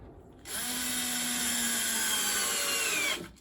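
A power drill spins up and whines steadily for about three seconds, driving a screw into a melamine planer sled, then stops abruptly. It is close and clear, with no talking.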